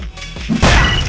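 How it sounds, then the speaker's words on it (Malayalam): Punch smashing a hospital building in Roblox, a single loud crashing impact that swells after a brief thud and lingers as rumbling debris, with no voices. "ഒരൊറ്റ ഇടിയിൽ പൊളിയുന്നു ഹോസ്പിറ്റലിന്"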